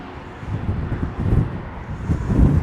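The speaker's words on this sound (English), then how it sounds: "A bit windy up here." Gusty wind at the Hoover Dam buffets the microphone in low, rumbling bursts that swell and ease, loudest toward the end, with no one speaking.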